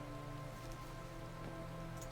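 Soft, steady rain ambience from the video game Final Fantasy XIV patters continuously at a quiet level, with a faint low hum beneath and no voices.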